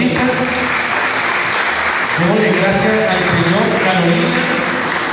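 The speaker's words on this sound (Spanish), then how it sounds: "Démosle un aplauso al Señor por esta visita" Church congregation applauding steadily and loudly in a sanctuary, the clapping continuous throughout while a voice speaks over it and others call out.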